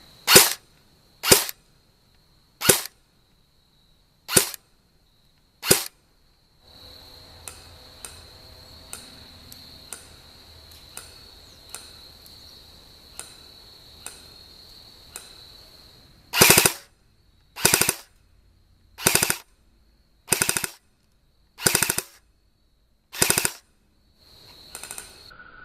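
An Echo1 USA Troy MRF-S airsoft rifle on a 9.6 V 1600 mAh battery fires sharp, evenly spaced single shots, then a stretch of quick, softer rattling, then more crisp single shots, close and with no talk.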